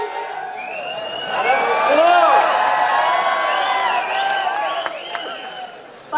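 A crowd at a Hindi kavi sammelan poetry recital in Jhalrapatan claps, cheers and whoops continuously for several seconds, loud and close, with shouted voices rising over the applause.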